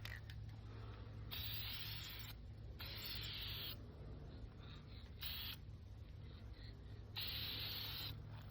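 A second coat of spray paint goes onto car rims in bursts of hissing aerosol spray, several separate blasts with short pauses between them, close and steady, with no talk.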